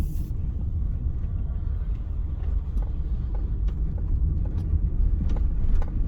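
A car rolls down a steep, narrow hill road at Bluff Hill in Napier, giving a continuous low road and engine rumble with faint scattered clicks and taps, steady and close throughout.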